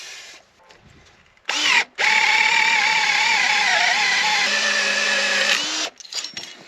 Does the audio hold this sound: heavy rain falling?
no